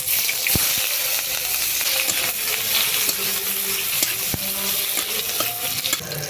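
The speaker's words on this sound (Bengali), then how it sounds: "মাছ ভাজার তেল রয়ে গেছে, ওই তেলের মধ্যে দিয়ে দিচ্ছি 5 ফোড়ন, পেঁয়াজ কুচি" Five-spice seeds and chopped onion fry in leftover fish-frying oil, a continuous close sizzle with a spoon stirring and several sharp clinks against the pan.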